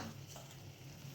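Tomatoes dropped into a hot pan of garlic for a Kathiyawadi curry, giving a steady, close sizzle and fry with faint stirring scrapes throughout.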